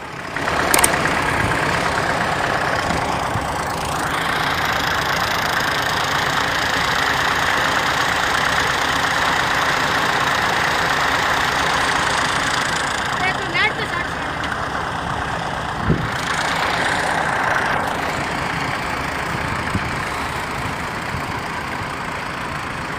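A tractor hauling a loaded trolley idles with a steady, continuous engine rumble that holds evenly throughout, with occasional faint voices underneath.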